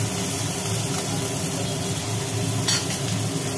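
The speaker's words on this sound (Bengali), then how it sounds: "চিংড়ি মাছগুলো হালকা করে ভাজা হবে" Shrimp coated in salt and turmeric fry in hot oil, giving a steady close sizzle over a constant low hum, with no talking.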